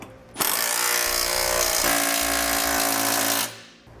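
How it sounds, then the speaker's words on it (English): A power tool drives a 3/4 inch socket to snug down the nuts of a Curt trailer hitch on a 2012 Ford Edge, giving one loud, steady whirring burst of about three seconds between quieter stretches. "we'll use a 3/4 inch socket and we'll snug down our 2 nuts on each side."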